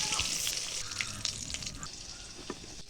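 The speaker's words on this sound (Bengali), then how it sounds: "ওই তেলে কাটা ধোয়া বেগুনগুলো দিয়ে ভালো করে লাল লাল করে ভাজি তুলবো।" Cut, washed eggplant pieces frying in hot mustard oil, a steady broad sizzle with soft crackles and a few brief spits, close and moderately loud throughout, no talking.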